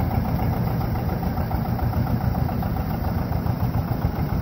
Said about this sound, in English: that's the cold start on the tractor